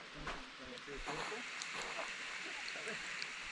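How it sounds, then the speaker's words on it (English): A small waterfall runs in a gorge in the MacDonnell Ranges after rain, giving a steady, even rush of falling water throughout while people talk over it. "Oh, there's a little waterfall up there."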